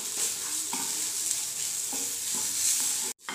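A spoon stirs mashed potato bharta with coriander leaves in a hot pan over a medium flame, giving a soft steady sizzle with a few scraping strokes close by before a sudden stop.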